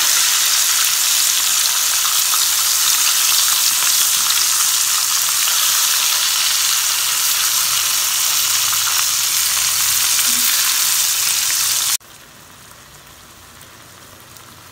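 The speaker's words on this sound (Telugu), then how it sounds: "మొక్కలు 2 వైపులా తిప్పుకుంటూ లో ఫ్లేమ్ మీద మగ్గనివ్వాలి." Stuffed eggplants for gutti vankaya curry sizzle in oil on a low flame, a dense, steady crackle close by that continues for about twelve seconds before dropping abruptly to near silence.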